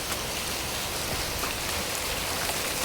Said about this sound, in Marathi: आमच्या इकडे पाऊस किती पडतोय ते तुम्ही बघू शकता